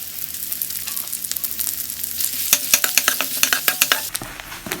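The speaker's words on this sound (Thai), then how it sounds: "นำกระเทียมที่เราสับไว้ใส่ลงไปเจียว ให้เหลืองหอม" Chopped garlic fries in hot oil for an instant noodle dish: a constant loud sizzle, then a rapid run of sharp spatula clicks against the pan in the second half, with no voices.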